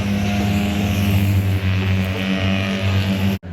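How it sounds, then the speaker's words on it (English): 2CV race cars pull out for qualifying at Cadwell Park: a steady, loud drone of small engines holding a constant pitch, close by, with a brief dropout near the end. "the cars head out for qualifying"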